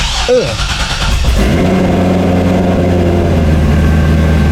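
A Corvette engine cranks and catches, then settles into a steady, rumbling idle as it warms up, loud and close, with no talk over it.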